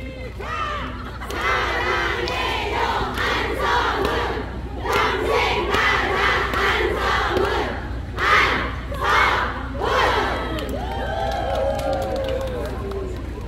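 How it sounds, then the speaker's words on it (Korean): A large crowd at a Buddhist temple charity sharing festival roars with sustained cheering and shouting after a singer's stage set. The noise stays loud and dense throughout, with a few sharper peaks near the end. "큰 박수 한번 부탁드립니다"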